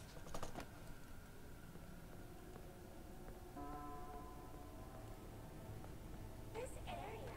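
Computer keyboard typing inside the horror video game FNAF Security Breach, a few quick clicks near the start over a steady game ambience with faint musical tones, and a voice speaking.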